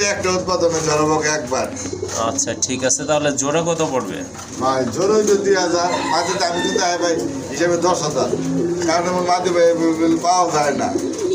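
Tiger Golla pigeons with pink beaks give low cooing calls beneath continuous close-up conversation between people.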